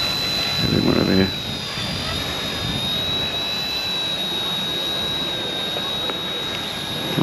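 Small Eachine E110 toy helicopter flying, a steady high-pitched rotor whine holding on throughout, with a brief louder burst of rustling noise near the start.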